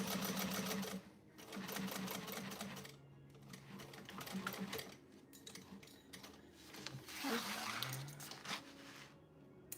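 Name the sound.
sewing machine sewing zippers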